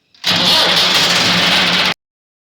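A tractor engine cranks and catches, then runs at a loud, steady roar for under two seconds before cutting off abruptly, heard up close with no talking.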